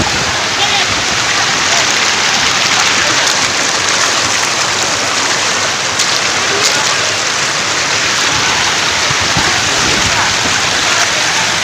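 Rushing water pours steadily through Mettur Dam, a loud, continuous broadband roar like a waterfall or fast stream that fills the whole stretch with no pauses.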